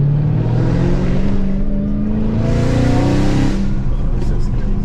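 Supercharged Dodge Hellcat with a 700-horsepower engine revving hard, a steady loud roar that climbs in pitch twice with a whining edge, heard from inside the car with voices talking over it.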